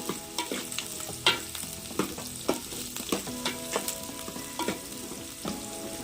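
Onions deep frying in oil for a crab curry give a soft steady sizzle, with frequent scraping and clinking stirring strokes that come in an uneven rhythm, close by and quiet, with no voices.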